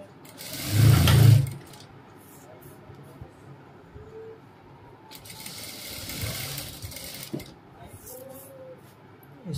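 A sewing machine stitches a cap dress with a short, loud opening burst, then quieter intermittent running and handling sounds; someone speaks at times.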